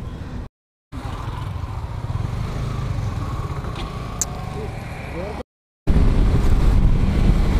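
Strong wind buffets the microphone while riding a motorcycle on a road trip, a loud steady rushing roar broken by two brief dropouts, with no talking over it.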